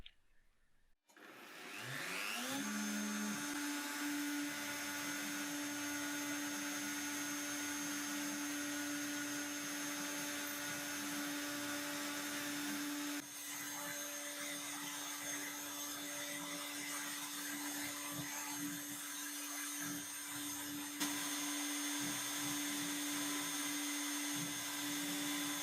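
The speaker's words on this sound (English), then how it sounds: "I can proceed on the milling machine" A CNC milling machine carves a 3D relief model of Silicon Valley. A motor spins up within the first few seconds, then a steady whining hum with a sustained tone runs unbroken and fairly quiet to the end.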